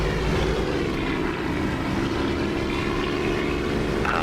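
Blue-winged propeller aircraft fly over an airfield in the DCS flight simulator, a loud continuous engine drone that holds steady throughout with a faint shift in pitch near the end.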